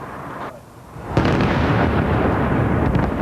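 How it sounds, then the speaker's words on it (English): A bomb explodes during the coalition bombing of Baghdad, near Saddam Tower: a sudden heavy blast breaks a quieter background and rolls into a sustained low rumble. "The explosions themselves were more powerful than before, bigger, louder bombs."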